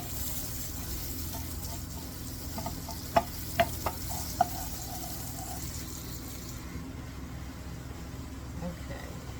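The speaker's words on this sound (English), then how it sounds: "sauteing these onions" Onions sauteing in a pan give a steady, moderate sizzle throughout, with a few sharp clinks of a utensil partway through.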